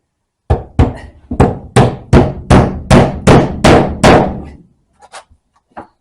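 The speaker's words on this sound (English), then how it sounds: "It's a left-handed hammer, you know." Hammer blows in a steady run, about ten sharp strikes close by while framing a closet, followed by a few lighter taps after a short pause.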